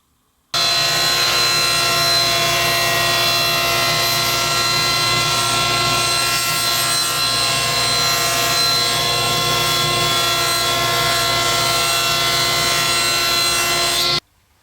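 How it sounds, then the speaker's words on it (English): A power saw cuts through 1/2 inch plywood for a utility case top and bottom, a steady loud continuous whine with no pause, starting abruptly and stopping abruptly near the end. "we're going to cut some 1/2 inch plywood"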